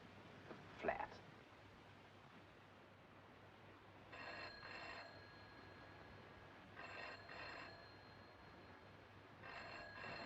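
A telephone rings in a hotel room, giving three short double bursts of ringing spaced a few seconds apart over a quiet, humming background, with a brief knock or thump near the start.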